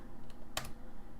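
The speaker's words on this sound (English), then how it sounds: "I would press up on the keyboard and put upgrade" A couple of quick keyboard key presses click faintly over a low background hum, one sharper keystroke standing out.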